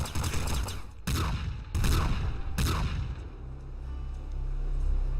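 Twin machine guns firing in the top-down shooter Nuclear Throne: three dense bursts of rapid gunfire, loud and close, then the shooting stops and a low rumble fills the quiet that follows.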